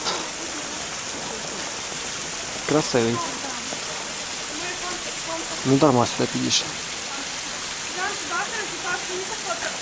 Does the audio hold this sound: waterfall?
yes